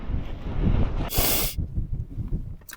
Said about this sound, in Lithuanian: Kaip matot, vėjas yra.